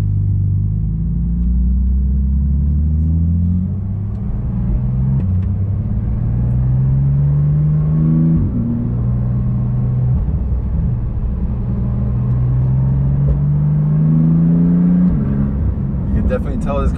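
Inside a Porsche GT2 RS Weissach, the turbocharged engine gives a deep, loud rumble that rises and falls through repeated gear pulls, with a turbo whistle near the end and a person talking over it.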